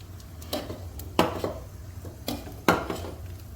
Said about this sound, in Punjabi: ਹੁਣ ਆਪਾਂ ਇਹਦੇ ਚ ਬੇਸਣ ਚ ਘਿਓ ਪਾਉਣ ਲੱਗੇ ਆ